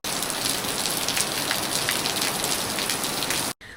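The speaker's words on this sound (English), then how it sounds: "And of course it started bucketing down at this point, so I just had to wait out the rain" Heavy rain bucketing down, a dense, steady hiss of drops striking surfaces, loud and unbroken, cutting off abruptly near the end.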